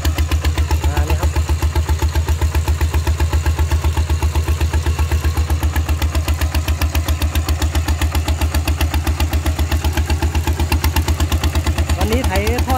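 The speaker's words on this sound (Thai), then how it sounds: "วันนี้ไถท่อดังนะครับ" An iron-wheeled farm tractor fitted with a loud exhaust pipe ploughs a rice field, its engine thumping in a fast, even pulse that stays loud and close throughout.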